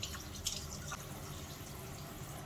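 Tap water runs steadily into a sink while a face mask is rinsed off, a quiet, even rush broken by a couple of small splashes.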